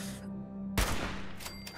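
A gunshot in the video game Fallout 76 lands a headshot as a single sharp, loud crack followed by a brief rumbling tail, then a couple of fainter clatters.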